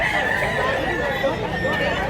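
A rooster crows at a Cebu market where fowl are being priced for sale, its loud call holding steady across the whole stretch with other birds clucking and people chattering in the background.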